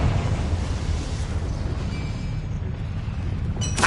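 A Confringo fire spell blasts in the Hogwarts Legacy video game, a loud, sustained rumbling explosion roar that fills the whole stretch, ending with a brighter crackling burst.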